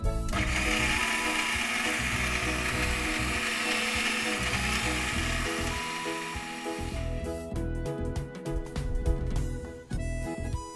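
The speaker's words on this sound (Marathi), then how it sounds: "मिक्सरमध्ये बारीक वाटून घेऊया." A kitchen mixer grinder whirs loudly as it grinds a gravy paste with oil and water, a steady motor drone for several seconds before stopping and giving way to rattling, clattering pulses.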